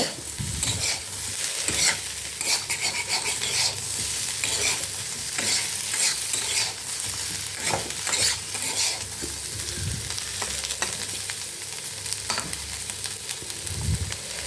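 Colocasia (seppankizhangu) pieces are stirred and tossed in a hot pan as they fry, with continuous oily sizzling and repeated scraping strokes, close and clear.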